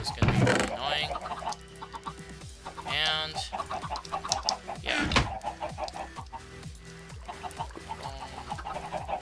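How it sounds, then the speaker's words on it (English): Chickens cluck repeatedly in the Minecraft video game, a busy scatter of short clucks and squawks running throughout while someone talks briefly over them. "I did turn down the chicken sounds since it was gonna be really annoying."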